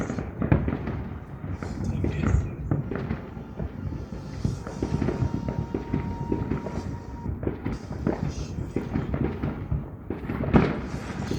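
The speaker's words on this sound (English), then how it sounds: "That's super firework." Fireworks bursting repeatedly in a dense, continuous barrage of booms and crackles, loud and fairly close, with excited voices talking over the display.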